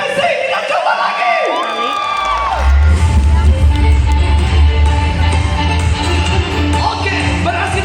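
A circus audience claps and cheers for a rope-skipping act on a very thin tightrope, a loud, dense wash of crowd noise that swells and holds steady.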